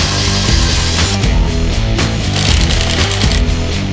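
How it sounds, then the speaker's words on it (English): A hand-held power drill bores into wood during a cottage garden build, loud and close, its motor whining in repeated surges as the bit bites and eases off. "Try and keep the drill straight and perpendicular"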